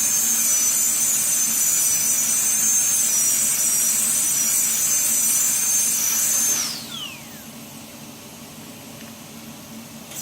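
A carbide burr grinds a dental implant abutment, giving a loud, steady high-pitched whine that holds for several seconds, then drops in pitch as the handpiece spins down, leaving a quieter motor hum.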